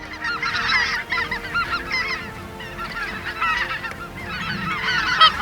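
Speckle-belly geese honking in flight during a waterfowl hunt, a dense chorus of loud overlapping honks in repeated bursts, fairly close, with no talk.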